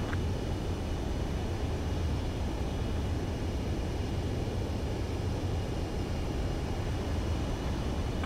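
Jet aircraft on a landing approach in Ace Combat 7, a steady, loud broadband roar of engine and wind that holds constant throughout.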